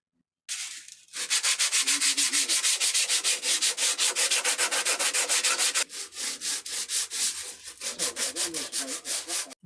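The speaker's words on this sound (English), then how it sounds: "one more slight bevel here before we get to sanding and rounding" A carved wooden guitar body is sanded by hand in steady, rapid back-and-forth strokes, a loud continuous rasping scrape with a brief pause partway through, no talking.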